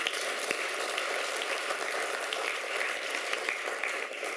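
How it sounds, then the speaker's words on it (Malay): Steady applause from a crowd at a Malaysian funding announcement ceremony for kindergartens and Tamil schools, many hands clapping continuously at an even level throughout, with no one speaking over it. "mari kita berikan tepukan penghargaan kepada mereka"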